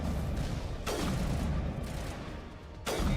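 Gunshots in a first-person shooter video game, a few sharp reports with ringing decay tails, spaced roughly a second or two apart over a continuous low background rumble.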